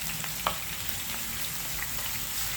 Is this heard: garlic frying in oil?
yes